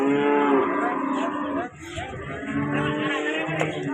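A young cow moos at a cattle market, a long, loud, close bellow that wavers in pitch and then trails into lower lowing, with faint voices and market noise behind.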